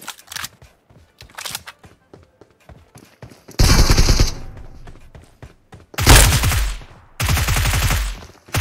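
Gunfire in a battle royale mobile shooter, from faint, rapid single shots early on to two loud, close bursts of automatic fire near the end, with no talking.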